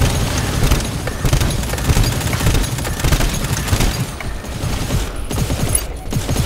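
Gunfire in the co-op shooter GTFO, level R2E1: a steady, loud barrage of shots and booms that goes on for the whole stretch without a break.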